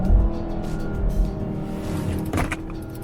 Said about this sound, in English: So I'm driving it in drive mode right now